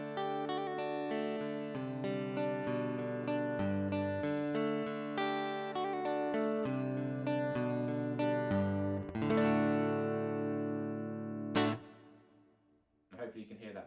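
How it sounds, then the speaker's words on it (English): Clean electric guitar through a Tech 21 FLY Rig RK5 plays a series of chords and notes, each ringing out with a reverb tail, ending with a strum that decays into space. "So nice clean sound with a bit of reverb sounds like this."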